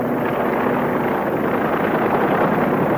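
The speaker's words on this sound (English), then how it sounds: "Re-entry parties are leaving the Rendova now by helicopter." A helicopter lifting off from the ship Rendova at sea, a steady loud rotor roar that stays continuous and dense throughout.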